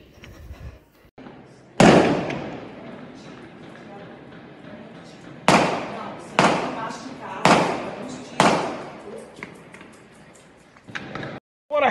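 Gunfire rings out during a bank robbery in Araçatuba, Brazil, with machine guns among the weapons: about six sharp, loud bangs at irregular intervals, each decaying with a short echo, separated by quieter stretches.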